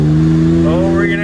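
A Can-Am Maverick X3 fitted with an EVO Powersports exhaust pipe revs up close and loud, with a steady engine drone rising in pitch near the end.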